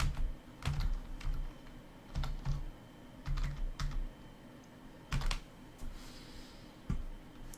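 Computer keyboard keys tapped in short irregular bursts while entering a wireless network name and password, close and fairly quiet with brief pauses between runs of keystrokes.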